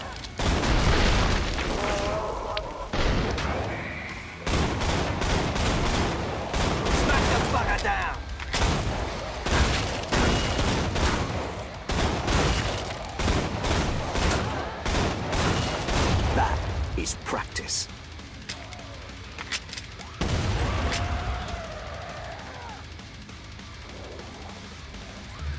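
Gunfire in Killing Floor crackles almost nonstop, with rapid loud shots, heavy booms and bursts layered close together, easing only briefly before resuming, while voices talk over the din.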